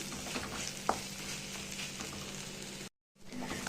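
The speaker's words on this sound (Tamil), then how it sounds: "இந்த டைமில் வெட்டி வச்சுருக்கிற வெங்காயத்தை இதில் சேர்க்கணும். சேர்த்துட்டு வதக்கிக்கோங்க." Chopped onions sizzle and crackle steadily in a hot pan while being sautéed for South Indian neer chutney, with a brief stir clink and a short pause near the end.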